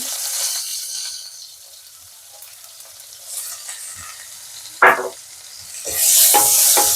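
Soaked kasuri methi, dried fenugreek leaves, drops into a hot pan of spiced oil for an aloo paratha filling, sizzling in soft hissing bursts with a brief clatter midway and a louder, steady sizzle swelling at the end; no one talks.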